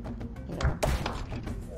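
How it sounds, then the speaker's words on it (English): Balls fired in the video game Zuma's Revenge land as a couple of soft, dull thunks near the middle of the stretch, over a steady bed of game background sound. "shoot out some balls for good measure"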